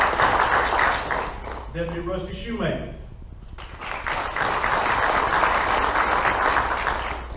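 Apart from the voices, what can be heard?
audience applause for Deputy Rusty Shoemaker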